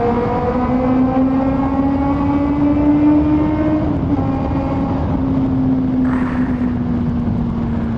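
A 2019 Honda CB400SB motorcycle engine revs hard and close with a steady, buzzing drone, its pitch climbing slightly before holding level at high rpm, with no talking.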